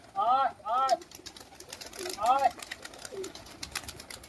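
Around 300 mostly white high-flyer pigeons are fed by an uncle; bright warbling calls come in two short bursts and then one more, over a restless, shuffling flock, with a voice also heard.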